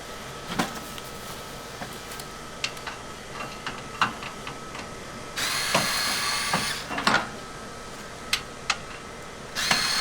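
A Ryobi pivoting power tool works the grill screws on a Pioneer mini split outdoor unit, with short taps and clicks and a sustained whirring burst in the middle, close by with no talk.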